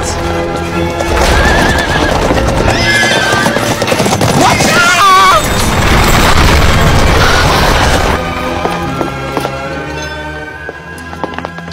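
A horse whinnies loudly over the clatter of hooves clip-clopping, with a dull boom in the mix before the hooves fade.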